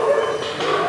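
Hunting hounds yipping and baying close by at a game fair, a short burst of hound voices with a busy crowd murmuring in the background.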